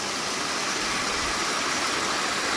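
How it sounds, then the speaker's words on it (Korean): Steady, loud rush of water on the upper stream above a waterfall in Naeyeon Valley near Bogyeongsa Temple, Naeyeonsan, Pohang, with an unbroken broadband roar filling the whole stretch and no voices. "폭포 상류입니다."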